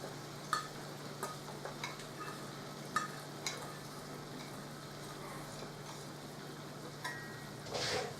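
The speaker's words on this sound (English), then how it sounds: "Give that a stir." A spoon stirring cut mushrooms through boiling vegetable stock in a cooking pot, quiet scrapes and knocks over a low bubbling simmer, with a brief louder clatter near the end.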